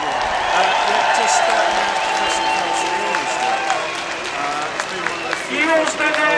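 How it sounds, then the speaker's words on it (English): Crowd applauding at an outdoor freedom protest, a broad wash of clapping and cheering with shouts and voices mixed in, fairly loud and steady throughout. "Give her a big round of applause."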